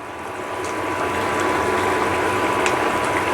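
Fesa fish curry with black cumin bubbles in a pan, a dense, even simmering hiss with small popping bursts, close and continuous, with no voices.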